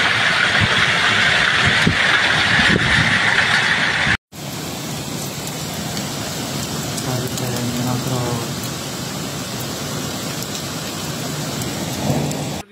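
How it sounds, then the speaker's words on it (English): Heavy rain from a powerful storm pours steadily over Split, Croatia in a dense, hissing roar, with a brief cut midway and no talking over it. "Split was hit by a downpour"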